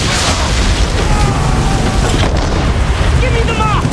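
Ship cannons booming in naval combat in Assassin's Creed 3, a loud continuous barrage of blasts and rumble while crew voices shout commands over the battle.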